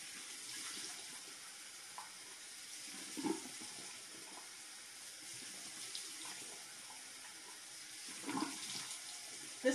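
Tap water running steadily into a sink while a face mask is rinsed off, a soft continuous hiss with a few faint splashes and clinks, no speech.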